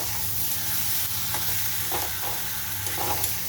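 Ginger and garlic paste frying in a pan, a steady close sizzle with occasional soft stirring scrapes, no talking.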